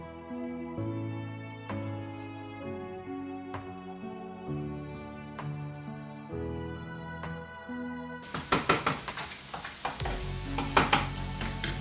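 Minced meat for lasagna hits a pan, first under steady background music, then a burst of sizzling with scraping and stirring against the pan bottom.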